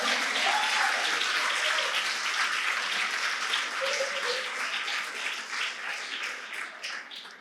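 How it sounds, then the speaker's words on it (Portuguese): A church congregation at a prophetic conference breaks into sustained applause, a dense loud wash of clapping that fades slightly toward the end, with faint voices mixed in. "Vamos aplaudir Jesus."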